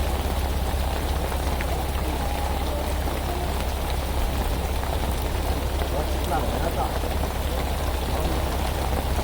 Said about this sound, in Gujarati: લાઈવ વરસાદ જોઈ શકો છો તમે, વરસાદ ફૂલ વધ્યો છે.